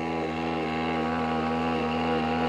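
A homemade two-stroke diesel moped engine with low compression, running on a straight road; a loud, steady droning hum with faint periodic dips where it misfires, no talking over it.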